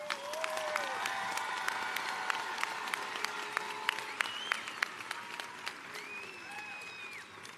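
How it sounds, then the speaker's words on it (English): Applause for the graduating class of 2022 at Auburn Mountainview's graduation ceremony in Washington, a sustained crowd clapping with sharp individual claps standing out and scattered whistles and cheers rising over it throughout. "Let's give the class of 22 one more round of applause."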